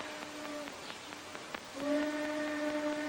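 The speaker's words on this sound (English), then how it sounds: "Train whistle." A train whistle sounds faintly and far off, a brief steady tone at first and then a longer sustained blast that holds to the end over a quiet background.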